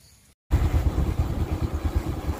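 Motorcycle rolling slowly in neutral along a track through a palm oil plantation in Kerala, giving a close, steady low rumble with uneven bumps and rattles after a brief silent gap at the start.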